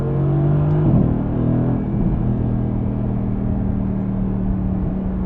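Sports car engine, a Mercedes-AMG GT or Aston Martin Vantage, dropping pitch through a couple of quick downshifts with brief blips near the start, then settling into a steady close droning hum.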